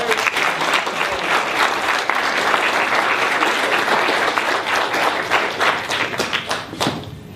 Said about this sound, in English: I want y'all to give a strong round of applause for our brother, Ward Churchill.